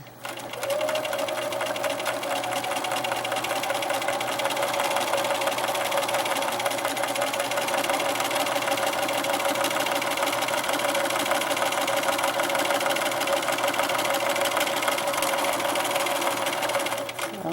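A sewing machine stitches a quilted hot pad in one long unbroken run, its rapid needle chatter and motor hum steady and close from start to finish before stopping abruptly.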